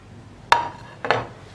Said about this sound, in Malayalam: അപ്പോൾ ഞാൻ ഈ വെളുത്തുള്ളിയും പച്ചമുളകും അതുപോലെ തന്നെ കറിവേപ്പിലയും സവോളയും നമ്മുടെ ഈ പാവയ്ക്കയിലേക്ക് ചേർക്കുകയാണ്.